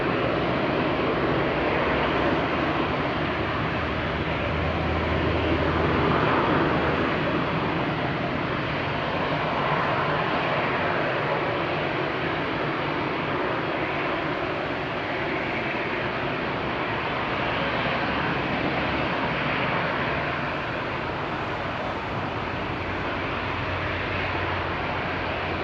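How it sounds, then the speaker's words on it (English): An EasyJet airliner passes on its downwind leg, a broad steady engine drone that stays fairly distant and even throughout, with no voices. "EasyJet on downwind."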